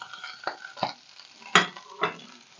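Onions and apples fry in rendered duck breast fat with a faint sizzle, punctuated by four distinct scraping strokes of a utensil stirring the pan.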